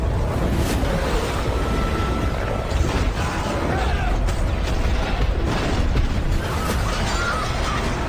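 Big ocean waves crash against a ship in a continuous loud roar of surf and spray, with gusts of wind noise and heavy low rumbling throughout.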